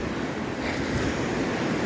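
Ocean surf on the Pacific Northwest shore makes a steady, dense roar of breaking waves with wind buffeting the microphone, loud and continuous throughout with no voices.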